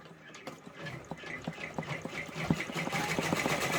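Multi-needle embroidery machine stitching white thread, a quiet rapid mechanical ticking and whirring in a steady rhythm, faint and close, growing slightly busier toward the end.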